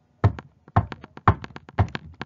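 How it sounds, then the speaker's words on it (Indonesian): Several knocks on a hard surface in a loose rhythm, a louder knock followed by a few softer ones, repeated four times, close and clear. "Contohnya seperti mengetuk meja."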